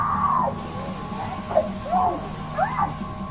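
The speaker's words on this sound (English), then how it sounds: "She lets out yet another scream, this one more intense than the first." A woman screams intensely several times in a row in a shop among onlookers. The cries are loud, rising and falling, and ring out over a low background hum.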